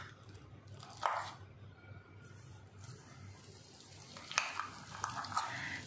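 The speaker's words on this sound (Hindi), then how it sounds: "सारा पेस्ट हमें इसमें डाल देना है और इसको अच्छे से इसमें मिक्स करना है, चलाते रहना है इसको ताकि नीचे ना लगे ये" Almond paste stirred in warm desi ghee in a pan gives soft squishing, stirring and gentle sizzling, with a few sharper clinks of the utensil against the pan.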